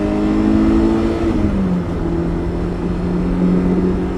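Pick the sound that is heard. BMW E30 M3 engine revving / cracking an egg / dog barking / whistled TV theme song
BMW E30 M3 engine revving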